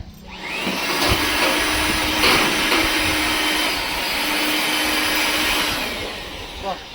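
A homemade Orbeez gel blaster runs with a continuous loud whirring, rushing motor noise that holds steady for about seven seconds with slight swells and no talking.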